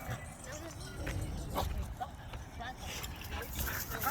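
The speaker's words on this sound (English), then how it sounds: "I didn't know you had two dogs." Two dogs out on a walk give short yips and whimpers at close range over steady outdoor background noise, while a person talks now and then.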